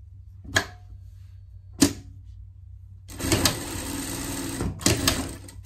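Sewing machine stitching the shoulder seams of a denim pet vest: two short isolated bursts, then a longer steady run of close, loud machine stitching with a brief pause near the end.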